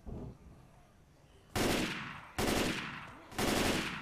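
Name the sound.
gunfire in video game Left 4 Dead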